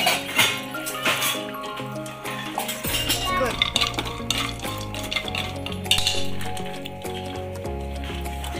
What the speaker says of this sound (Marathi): आता आपण यात खोबरं भाजून घेणार आहोत।